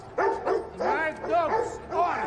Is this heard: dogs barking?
yes